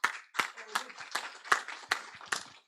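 Applause at a Meta Platforms business event in Montenegro, thanking the organizer: a handful of sharp, separate claps in a slow, even rhythm, faint and fairly close, with a voice murmuring between them.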